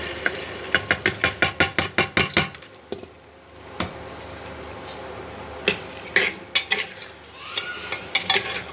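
Chana dal goes into a cooking pot with spices and is stirred, starting with a quick run of sharp metallic spoon scrapes and clanks against the pot. Quieter scattered clinks and stirring follow.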